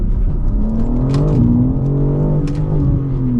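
BMW M3 CS in all-wheel-drive sport mode, its engine revving hard and continuously with a rising and falling whine as the wheels spin, loud and close throughout with no talk.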